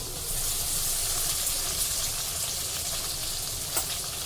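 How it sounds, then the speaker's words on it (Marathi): Diced onion sautés in a pan over a low flame with a pea and potato masala base, making a steady, even sizzle throughout with one small clink near the end. "आता त्यामध्ये डाईस केलेला कांदा घालूया"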